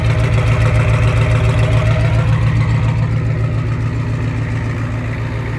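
An old Ford F250 with the 7.3 IDI diesel idles close by, a loud, steady low rumble with a rhythmic diesel clatter throughout and no voices.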